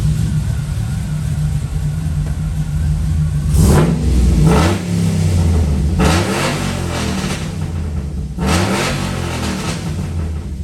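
A Corvette engine sits at a low idle, then is revved up three times in distinct bursts, each rising and falling in pitch, loud and close over a steady rumble.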